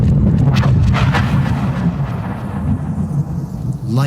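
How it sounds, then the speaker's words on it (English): Low, heavy rumble of thunder rolling through after a lightning strike during a Rocky Mountain storm, loud and sustained, then slowly fading. "Lightning hits."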